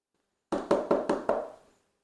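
Five firm knocks rap on a house door in a steady, even rhythm, close and clear against silence, each fading quickly.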